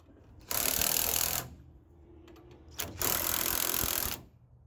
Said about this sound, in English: I'm going to use an impact, but you can use a wrench to do this.